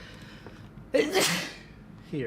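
A single sharp, loud sneeze bursts out in the middle of a tabletop role-playing session, with people talking briefly before and after it.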